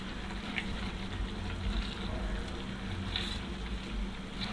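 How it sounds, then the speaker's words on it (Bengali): Spices with dried chilli powder, salt and green chillies sautéing in a pan for beef shahi rezala, a dense close bubbling sizzle with occasional soft clinks, steady throughout. "মশলাগুলোকে ভালোভাবে কষিয়ে নিতে হবে।"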